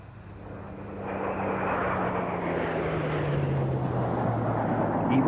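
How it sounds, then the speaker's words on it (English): A piston-engine, propeller-driven Spitfire leads nine Red Arrows jets overhead at an air tattoo at Fairford, UK, a broad engine roar that swells in and holds loud, with a slowly falling low drone. "The piston-engine, propeller-driven Spitfire leads the 9 jets of the Red Arrows."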